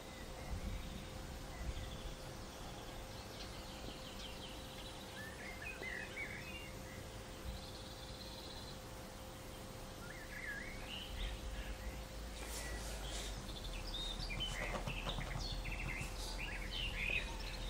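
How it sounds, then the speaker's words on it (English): Birds chirping and singing outdoors, faint and scattered over a steady background hum, with intermittent tweets through the stretch and no talk. "the birds sound nice"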